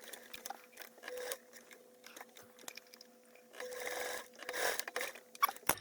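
A domestic sewing machine runs a top stitch with a one-eighth-inch seam allowance around the edge of a multi-compartment fabric bag, whirring in short bursts between quiet pauses, fairly faint and close.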